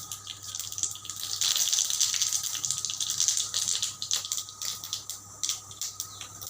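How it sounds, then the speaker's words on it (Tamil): Mustard seeds pop and sizzle in hot oil in a pan, giving a steady hissing crackle with scattered sharp pops throughout. "இப்போ நம்ம கடுகு போட்டுப்போம்."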